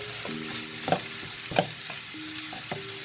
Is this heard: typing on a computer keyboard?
no